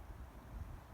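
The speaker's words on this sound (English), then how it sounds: "I'm just gonna sit here and listen to the wind and the clouds," Steady wind on the cloud-covered summit of Beech Mountain in Acadia National Park, a low continuous rumble and buffeting against the microphone with a faint hiss, no voices.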